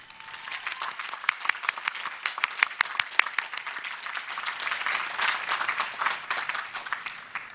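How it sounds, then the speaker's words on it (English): Sustained applause from an audience honoring educators at a university graduate division commencement ceremony, dense rapid clapping with no voices, steady and moderately loud throughout. "So please let us give a warm round of applause for our educators who are with us today"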